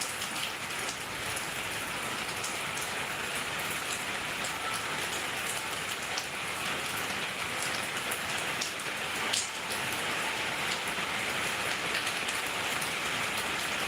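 Steady rain falls continuously, a dense even hiss with scattered drops pattering on a surface, no voices.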